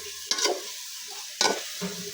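A pan of fish and mushrooms dry-roasting with lemongrass and galangal, stirred with two sharp scraping strokes over a steady low sizzle, close by.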